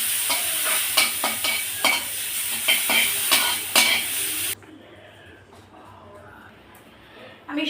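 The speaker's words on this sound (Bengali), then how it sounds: "নেড়ে চেড়ে এটা ভাজা ভাজা করে দেবো।" Chopped coriander leaves fry in oil with a little salt in a pan while being stirred. A bright sizzle runs under repeated scraping knocks of the spoon, then cuts off abruptly into quiet room noise with faint movement.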